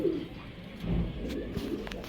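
Pigeons, including Turkish Tumbler pigeons kept for sale, cooing softly in low repeated rolling calls amid a noisy background, with no talking.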